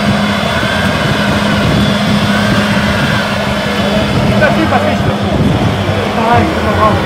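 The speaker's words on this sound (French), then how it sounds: "pendant qu'on refroidit le moteur V10 Peugeot" Peugeot V10 engine of a three-seat Formula 1 car runs as a loud, continuous high-pitched drone, steady from start to finish with little variation in level.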